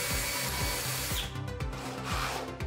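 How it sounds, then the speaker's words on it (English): Power drill boring holes through the frame and fixed panel of a glass wall system, a continuous loud whirring grind with a steady pulsing rotation. "When drilling, you want to make sure you go through two walls, the frame and the first layer of the fixed panel."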